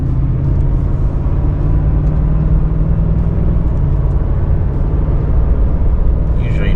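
Ford F-350 Super Duty dually pickup with 3.73 gears and a 7.3 Godzilla engine accelerating up onto a turnpike, a steady loud engine and road rumble heard from inside the cab while a person talks over it.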